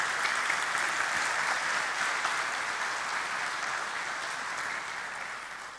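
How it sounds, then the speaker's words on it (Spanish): Audience applause after an industry talk on metal additive manufacturing: an even wash of many hands clapping at moderate distance that slowly tapers off, without voices. "un aplauso de nuevo"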